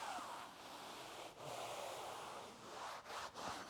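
A damp towel scrubs a convertible's fabric soft top, giving a soft, continuous rubbing hiss with a few brief pauses, faint and close.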